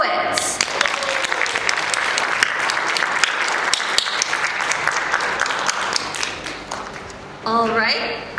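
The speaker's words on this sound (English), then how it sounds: "let's hear a final round of applause for our poets" Audience applauding poets at a school poetry slam, a dense, steady wash of clapping that fills the room for several seconds before tapering off, with a brief surge near the end.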